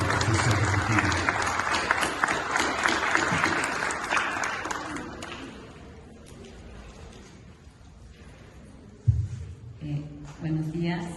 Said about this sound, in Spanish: Por favor, un fuerte aplauso para la doctora Fabiola Pamela Sáenz Daza